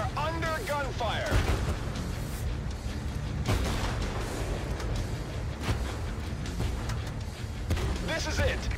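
Dense gunfire and booming artillery from a World War tank battle game rumble continuously, with scattered blasts under frequent radio-style voices talking over the combat.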